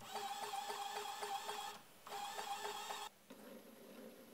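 An old printer's geared motor running on 5V drives a threaded rod, giving a steady whirring drone with a faint rhythmic ticking, stopping briefly twice and then resuming, close and alone.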